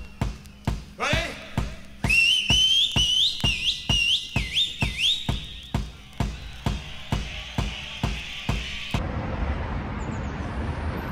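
A man whistles bright, warbling bird-like trills and chirps, imitating birdsong over a steady rhythm of loud thumps, then the whistling stops and a broad rumble remains.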